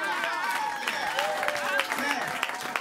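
A church congregation at a French-language service applauds and cheers, steady clapping mixed with voices and sung or shouted tones throughout.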